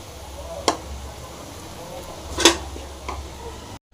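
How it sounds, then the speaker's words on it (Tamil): Dry gambli fish fries in a pan with chilli powder, coriander powder, garam masala and Kashmiri chilli: a steady low sizzle, broken by three sharp scrapes and taps of a spatula against the pan. "இப்போ வந்து மிளகாய்த்தூள் மல்லித்தூள் கரம் மசாலா காஷ்மீர் சில்லி எல்லாம் போட்டாச்சு நல்லா கலக்கலாம்"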